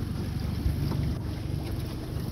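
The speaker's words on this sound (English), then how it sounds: "Got a little bit of rapids." A jon boat runs through small rapids on a river, with steady rushing water and wind buffeting the microphone, continuous and fairly close with no talking.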